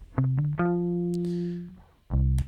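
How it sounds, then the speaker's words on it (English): Synth or guitar notes with a slight delay echo on the right side, processed in Ableton for a psychedelic pop rock sound; sustained tones repeat faintly after each attack, alone with no talk. "You can hear a slight delay on the right side there"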